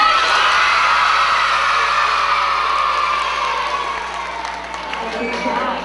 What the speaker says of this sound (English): See if you can cheer even louder for Jemiah.